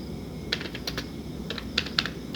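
Computer keyboard keys tapped while entering Python code, a quick irregular run of crisp clicks in brief bursts, fairly close and alone over a quiet room hum.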